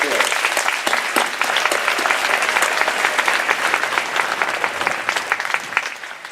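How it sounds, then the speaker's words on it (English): A graduation audience claps in a sustained round of applause, crisp, dense and fairly close, holding steady for several seconds before thinning out. "Class of 2018, let's give them a round of applause for all of their support."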